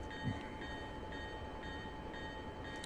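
Bell of a PRR Alco RS-11 diesel locomotive in a train simulator, ringing in steady repeated strokes over a continuous engine and rail rumble.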